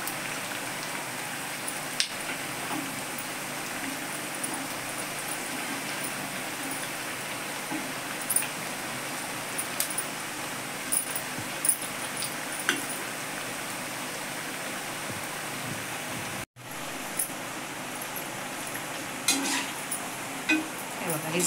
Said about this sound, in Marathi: कडक तेलातच ही वडी तळायला लागते